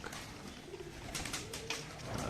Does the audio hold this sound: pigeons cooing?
yes